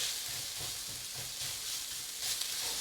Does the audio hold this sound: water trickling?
no